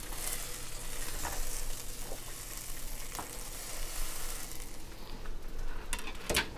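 Bread toasting in melted butter in a pan, giving a steady, fairly quiet sizzle and crackle with a few soft scrapes and taps over the top.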